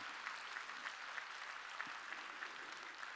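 A church congregation claps together during a Sunday worship service, a steady, dense wash of hands filling the hall at a fairly distant, soft level with no voices over it.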